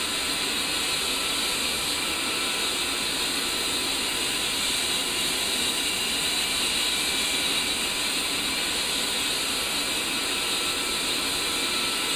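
Steady jet engine whine from an A-10C in the DCS World flight simulator, a continuous loud high-pitched roar and hiss holding level throughout with no voices over it.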